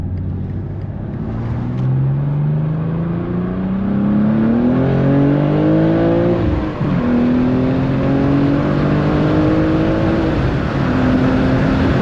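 A BMW M2 accelerates hard through a turn, its engine note climbing through the revs, dipping briefly at a gear change, then rising again, loud and close from inside the car.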